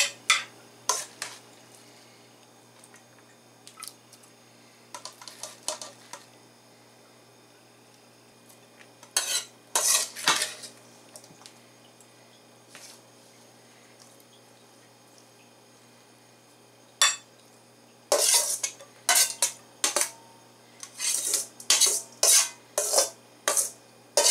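Red cabbage pickle is emptied into a container and stirred, with sharp clinks and scrapes of a utensil against the vessel, sparse at first and then a rapid run of loud strokes near the end.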